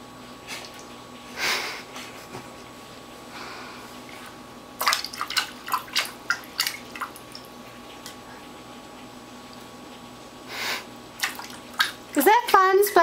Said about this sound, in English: Let's splash Dad.